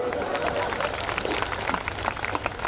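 Audience clapping at a Hindi comedy poetry gathering (hasya kavi sammelan), a continuous, moderately loud wash of many hands with scattered sharper claps, no speech over it.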